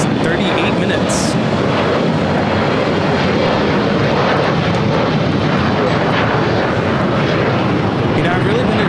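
A Turkish Airlines Dreamliner jet taxis on the north side of LAX beside taxiway Bravo, its steady broadband engine roar filling the whole stretch at close, constant loudness, with voices talking over it.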